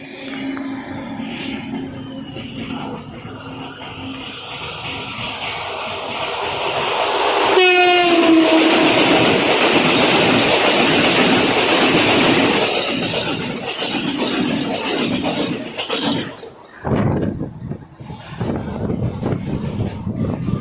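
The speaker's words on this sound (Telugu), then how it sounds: "వందే భారత్ కమింగ్, మన వందే భారత్." A Vande Bharat express train rumbles past steadily and loudly, with a horn blast partway through and a continuous rushing roar that fades toward the end.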